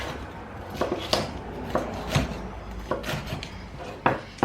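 A knife slices through capsicum on a cutting board, a series of crisp, irregular taps and thunks hitting the board close up in a quiet kitchen.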